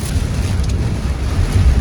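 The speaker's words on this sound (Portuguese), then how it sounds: "Nossa senhora, ventou absurdamente forte, hein?" Strong wind gusts during an overland road trip roar against the microphone in a dense, continuous low rumble with a steady breathy hiss above it, loud and close.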